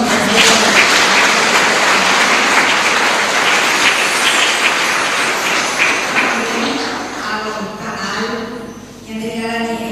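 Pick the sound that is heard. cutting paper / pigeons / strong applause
strong applause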